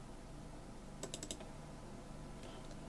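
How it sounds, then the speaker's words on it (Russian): A computer mouse is clicked in a quick cluster of faint, crisp taps over quiet room hiss, followed later by one more soft click. "Два раза кликнув"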